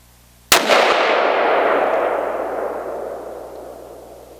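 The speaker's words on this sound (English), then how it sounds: "So let's go ahead and see where these Zombie Max bullets land." A single loud rifle shot from a Desert Tech Stealth Recon Scout firing Zombie Max bullets at a bench range, with a sharp crack and a long echoing tail that fades over several seconds.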